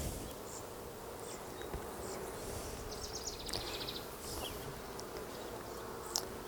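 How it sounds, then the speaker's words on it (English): A soft, steady hum of many honeybees buzzing nearby at a hive, continuous and fairly quiet, with occasional louder passes of individual bees. "Bees are calm."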